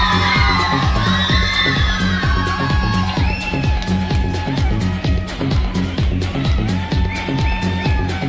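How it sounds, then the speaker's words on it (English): Children at a school magic show clap rhythmically in unison while shouting and cheering, loud and close, with excited voices rising over a steady beat of hands. "keep on clapping"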